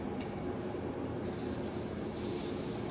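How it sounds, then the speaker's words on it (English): A continuous, close hiss of hairspray from an aerosol can, steady and unbroken throughout. "So I'm just kind of spraying this all over."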